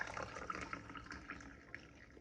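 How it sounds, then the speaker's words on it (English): A homemade Caribbean drink poured back into its container, a soft trickling and splashing fill that tapers off, quiet and close with no speech. "Just pour it back inside of this."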